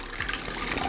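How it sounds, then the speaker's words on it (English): Coffee pours into a dish in a brief, steady splashing stream, close and fairly loud, with no talk. "Coffee going into the dish."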